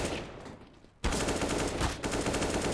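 Pistol gunfire in a Counter-Strike-style video game match: dense, rapid shots crackle loudly after a quieter opening second, continuing without pause to the end.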